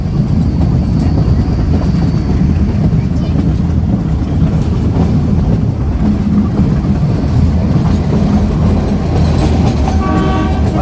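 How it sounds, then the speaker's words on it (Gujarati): The Sasan Gir to Junagadh forest train rumbles steadily along the rails with rhythmic clattering from the wheels, loud and close, and a brief horn toot near the end. "અડધી કલાક લેટ ચાલી રહી છે ટ્રેન"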